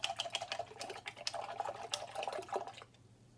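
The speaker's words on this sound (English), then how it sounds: "Here's how to wash your brush." A paintbrush is washed in a jar of water while painting a koi fish, giving close, light sloshes, drips and small tapping clinks that fade into quiet at the end.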